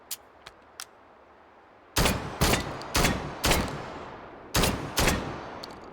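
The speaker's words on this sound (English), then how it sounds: "This is the B1301 from the Italian Republic, introduced in 2014. Let's load her up, see how she does." An Italian B1301 semi-automatic shotgun, introduced in 2014, fires six loud, sharp blasts in quick pairs and singles, each followed by a short echoing tail, after a few faint clicks of loading.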